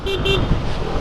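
Two short car horn toots sound in quick succession over road noise from a moving vehicle.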